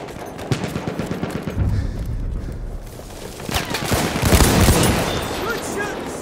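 Gunfire in Battlefield 1 during a Domination match, with rattling bursts of automatic fire and heavier booms layered into a dense, chaotic battle din, with voices calling out through the mix.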